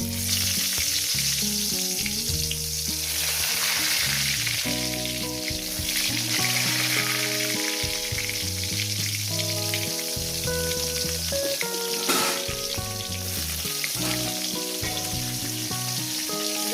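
Brinjal pieces fry in hot oil in a kadai, a loud, steady, close-up sizzle and bubbling hiss that holds for the whole stretch with occasional stronger crackle surges and no talking.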